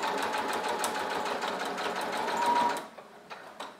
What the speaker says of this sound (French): je vais faire une surpiqûre au point droit à 5 mm du bord du tissu ici tout le long